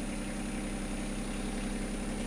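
A sailboat's inboard engine running at 1000 rpm while motoring at night at sea, a continuous even droning hum with a faint high whine, steady and unbroken, with no voices.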